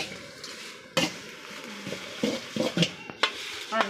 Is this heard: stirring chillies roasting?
yes